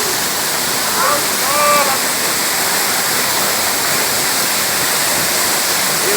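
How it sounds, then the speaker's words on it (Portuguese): Waterfall at Cachoeira da Santa Rosa in Caucaia, Ceará: a loud, steady broadband roar of falling water fills the whole stretch, with faint voices barely audible beneath it. "Não, é só a queda d'água mesmo"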